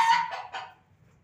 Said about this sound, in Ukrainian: курочка несеться. Уже знайшла собі місце, те, яке хотіла.